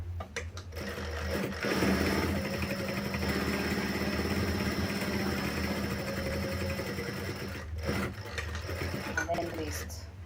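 A sewing machine stitching fabric for a sling bag runs in a fast, continuous whirring rattle for most of the stretch, briefly stopping near the start and again toward the end, with a voice talking faintly nearby.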